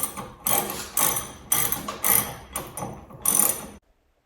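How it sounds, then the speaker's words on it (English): A ratchet wrench with a 13mm socket backs out tailgate hinge screws on a 2013 Jeep Wrangler JK, giving seven bursts of rapid metallic clicking in a steady rhythm, close and fairly loud, then stopping. "now using the 13mm socket, we will remove these two screws."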